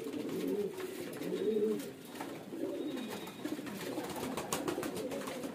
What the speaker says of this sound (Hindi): 17 कबूतर हैं।